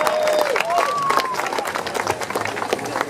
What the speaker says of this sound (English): Let's give him another round of applause.